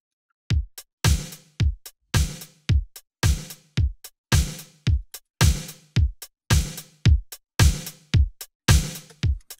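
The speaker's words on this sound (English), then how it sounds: "So if you're using the Lindrum, it sounds sort of like this." Dry, unprocessed 1980s LinnDrum drum machine samples pound out a steady, loud beat of punchy kicks, snappy snares and ticking hats, repeating evenly with no voices.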